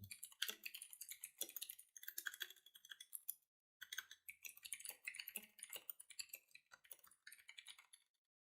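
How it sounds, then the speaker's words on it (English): Computer keyboard typing in quick, irregular bursts of soft clicks, close and faint, with one brief pause midway and no talking. "Let me type that out"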